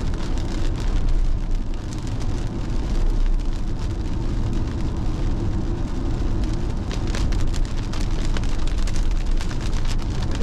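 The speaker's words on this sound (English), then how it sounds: "the rain is just belting down today" Heavy rain pounding steadily on a surface, a dense loud hiss with a low rumbling undertone, continuous throughout.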